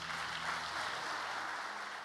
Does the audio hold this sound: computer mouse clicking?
no